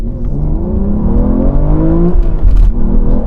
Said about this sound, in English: let's do a rolling race.